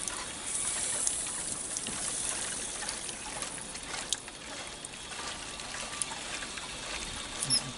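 Water trickles steadily from a tap fed by a faulty boat water pump, a continuous close splashing stream with a few small knocks.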